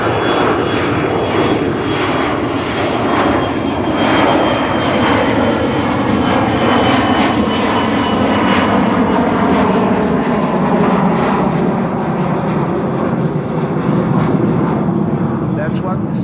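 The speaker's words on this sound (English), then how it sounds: "And there's the Embraer 175 already." Embraer 175 jet airliner at Amsterdam Schiphol Airport, its engines giving a loud, steady broadband roar that holds for the whole stretch, with a slow tonal sweep and no talk over it.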